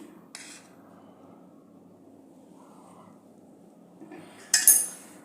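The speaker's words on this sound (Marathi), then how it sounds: "अजून एक चमचा मी याच्यात तूप घालून घेते" A spoon adds ghee into a cooking pot, giving a couple of brief metallic clinks against the pot with a louder scrape and clatter near the end over a faint background hum.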